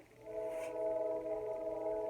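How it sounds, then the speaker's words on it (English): A train passes outside, heard as a sustained, tonal horn-like drone held at moderate distance, steady and unbroken behind a quiet room with no talking. "I think the train purposely times it so when I'm doing yoga, it makes a guest appearance"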